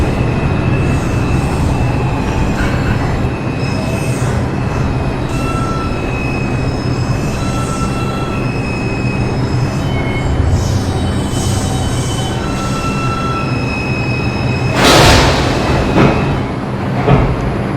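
A Bronx-bound New York subway 1 train runs from Chambers Street, a continuous loud rumble of wheels and carriages with faint metallic squeals and a brief sharp burst of noise near the end.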